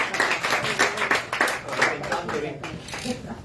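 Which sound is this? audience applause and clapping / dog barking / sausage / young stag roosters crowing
audience applause and clapping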